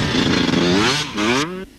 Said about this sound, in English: the top 125cc rider here at the Hafren, Mark Vaughan from Knighton, riding a Honda.